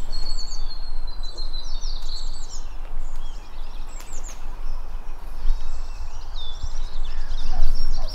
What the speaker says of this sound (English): Birdsong in spring.